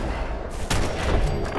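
Gunshots in Fallout 4, with a sharp loud report partway through and a burst of rattling fire after it over steady game noise.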